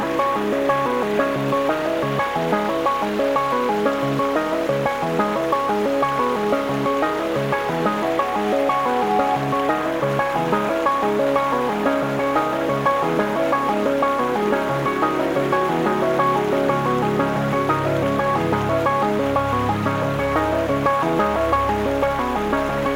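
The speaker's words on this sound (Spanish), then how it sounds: "Cascada que bien no está, realmente semivirgen" Minas Viejas waterfall in San Luis Potosí roars as a continuous broadband rush of falling water, steady and loud throughout with no other sounds.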